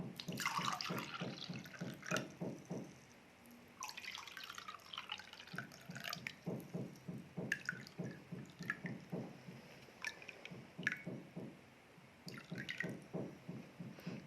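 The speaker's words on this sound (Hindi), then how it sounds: "इसमें हम पानी डालेंगे।" Tap water running and dripping into two glasses set up as a human-body demonstration, a steady close trickle with repeated splashy pulses, alone with no talk.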